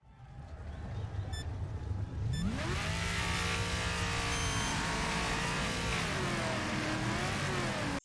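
In the Wreckfest racing game, a race car engine drones at lower revs after a short shift, first a quieter rumble, then a loud steady buzzing note that climbs and holds with slight pitch wobbles for several seconds.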